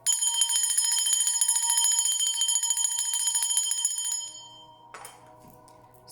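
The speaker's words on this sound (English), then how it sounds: "So ringing the bell scatters their energies." A small metal bell rings brightly and clearly in a series of rapid strikes, sustaining a shimmering tone for several seconds before fading, followed by a faint softer chime near the end.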